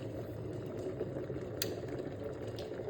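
Steady rumbling and bubbling of an electric kettle of water coming to a boil, continuous and fairly close, with no voices.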